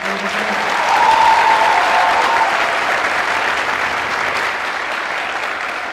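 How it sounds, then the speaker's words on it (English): Steady applause from a crowd at a National Honor Society ceremony, dense and sustained clapping that swells slightly then holds at an even level throughout. "Let's give them all another round of applause"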